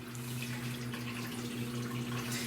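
Dirty laundry water drains and splashes down into a shower basin as part of an off-grid laundry setup, a steady close running-water sound with a low hum underneath, with no one speaking.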